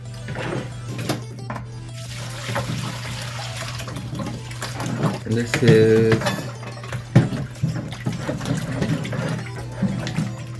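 Hot tap water running over raw chicken in a kitchen sink, a steady hiss and splash under a constant low hum, with a brief burst of louder splashing midway and a few short words of speech.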